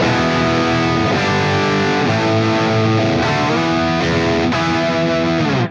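Electric guitar through a ToneX Vintage Twist amp model with a Boss SD1 overdrive, playing a continuous distorted chord passage with strummed changes about once a second, loud and close, ending abruptly.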